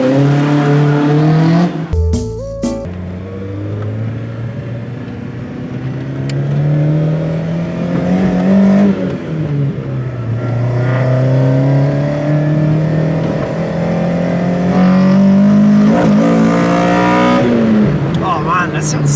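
A loud car engine revving hard from inside the cabin, pitch climbing and dropping through several gear changes over a long, sustained run, with voices faintly in the background.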